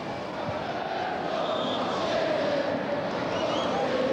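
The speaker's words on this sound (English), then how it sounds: "It's nice the game livened up, the crowd's livened up." A football stadium crowd at a testimonial match keeps up a broad, steady roar that swells slightly, and a commentator speaks over it.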